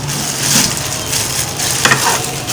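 A crispy chicken patty fries in hot oil with a steady, close, fairly loud sizzle and crackle, and a few brief stirring scrapes sound across it. No one talks.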